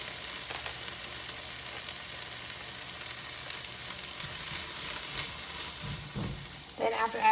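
Leftover potatoes, sausages and shrimp reheating in a skillet, a continuous crackling sizzle with brief stirring scrapes near the end, fairly close and steady.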